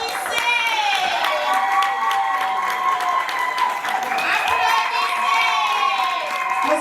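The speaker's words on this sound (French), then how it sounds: "Applaudissez." An audience at a national traditional medicine excellence award ceremony claps steadily and loudly throughout, while music plays over the applause.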